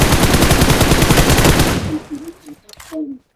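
Rapid automatic gunfire from the battle-royale game PUBG blasts loud and continuous for nearly two seconds, then breaks off into scattered quieter shots and a brief voice.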